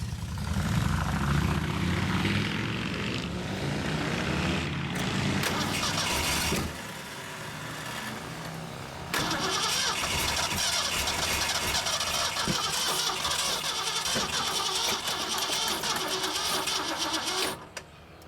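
A 1974 Mercury Comet GT engine, sitting unused for 14 years, cranks and cold-starts, then runs rough and loud, with a brief dip before it catches and keeps roaring steadily.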